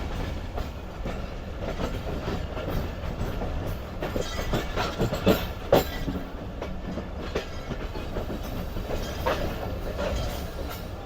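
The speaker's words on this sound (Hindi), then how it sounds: "यार्ड से निकलने के बाद ही ट्रेन स्पीड पकड़ेगी।" The Shalimar Express, heard from behind its ZCU locomotive as it pulls out of the yard near Rohri, rumbles steadily with irregular clickety-clack wheel knocks and a few sharper rail clanks, close and moderately loud.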